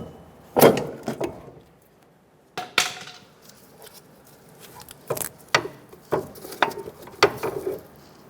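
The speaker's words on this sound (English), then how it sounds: "Pry the strut assembly backwards using a pry bar." A pry bar levering the front strut assembly backwards on a 2014-2018 Chevrolet Silverado 1500, giving sharp irregular metallic clunks and knocks with brief scraping between them, close up and with no talking.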